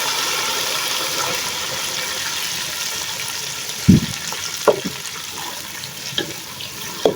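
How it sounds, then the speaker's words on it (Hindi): About two litres of water pours into a pan of browned onions for Kabuli pulao, giving a steady hiss and rush of liquid with light sizzling, followed by a few clanks and knocks of utensils. "तकरीबन 2 लीटर के दरमियान पानी शामिल कर देंगे।"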